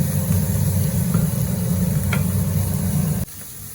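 Carrots being stirred into vegetables in a frying pan for vegetable fried rice, giving a steady close sizzle with faint scraping that stops abruptly near the end.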